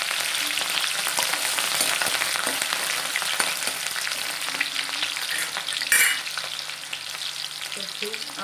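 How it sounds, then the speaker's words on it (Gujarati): Garlic and chillies sizzling in hot oil in a pan, a loud dense crackling hiss throughout with occasional stirring scrapes and a brief louder burst near the end. "હવે અહીં આપણું તેલ ગરમ થઈ ગયું છે। સૌપ્રથમ આપણે લસણ નાખીશું। હવે મરચાં નાખી દઈશું।"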